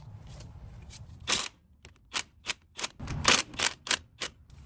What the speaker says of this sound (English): I'm just loosening them a little bit because it's a little bit tight at the angle for the socket to turn.